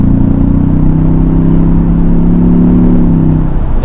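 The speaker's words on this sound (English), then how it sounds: "Sounds pretty good for a 4-cylinder, I must say." A 2024 Ford Bronco's 4-cylinder engine pulls steadily under acceleration, a loud continuous drone heard from inside the SUV with a slowly rising hum that eases off near the end.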